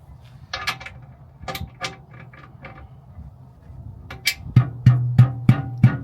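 Tightening bolts on Colorado Trailboss skid plates, a series of sharp metallic ratchet clicks and clunks, irregular at first, then a rapid even run of loud close ratcheting strokes.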